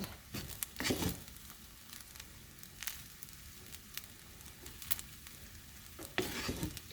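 Peas, carrots, onion and garlic stir-frying in a pan, a soft continuous sizzle broken by a few scraping stirs and clatters, faint and close, with no talking.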